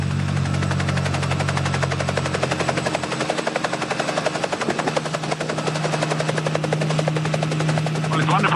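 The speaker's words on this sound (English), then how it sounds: "it's wonderful to be back flying this aircraft that was the first helicopter that I flew 20 years ago" A historic Army Air Corps helicopter flies close by at an air show, its rotor chopping in a rapid steady beat over a droning engine, loud and continuous throughout.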